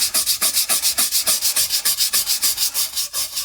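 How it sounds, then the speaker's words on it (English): A brush scrubs rapidly back and forth over a large shrimp, producing a fast, even rhythm of bristly rasping strokes, loud and close with no talking. "Give that some of that dark stuff a really good scrubbing."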